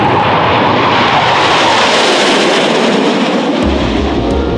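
A MiG-17F jet fighter engine roars loud and continuous, a broad rushing blast that shifts in pitch as if passing, with a deep low rumble swelling near the end.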